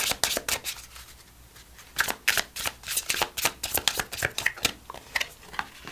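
Angel number oracle cards being shuffled by hand: a quick run of crisp, papery riffles and slaps, close up and fairly loud, with no talking.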